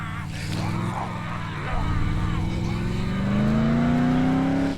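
A vehicle in the video game Dead Island drives with a steady engine drone that rises in pitch as it accelerates, loud and close, with voices shouting over it.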